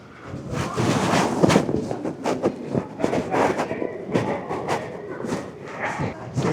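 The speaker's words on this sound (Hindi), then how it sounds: "जमाइका ट्रेन स्टेशन पे पहुँच गए" Train noise at Jamaica station in New York: a loud, steady rumble with rhythmic clatter and wind-like hiss that surges and eases, with no talk over it.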